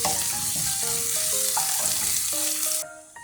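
Onions frying in a pan for a pork dish with green peas and potato, a loud, bright sizzle with stirring beneath a stepping melodic tone, fading away near the end.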